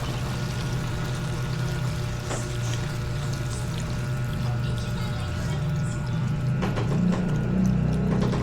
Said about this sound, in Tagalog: Lagay na natin itong gatas mga idol.